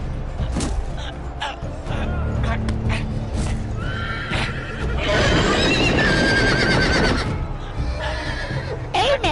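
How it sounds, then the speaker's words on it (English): Horses in the Telltale Game of Thrones video game neigh and whinny loudly, with a long whinny in the middle, amid hoof clip-clops and other game sounds, while a person talks over the action. "They're horses!"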